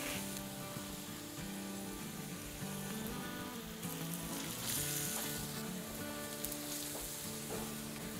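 Grated potato hash browns fry in a pan over a medium stove, giving a steady, close crackling sizzle that runs throughout with small pops and no talking.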